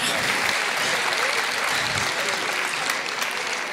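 A crowd at a concert applauds a singer, a loud dense roar of clapping that stays full and steady from start to finish, with no voices over it.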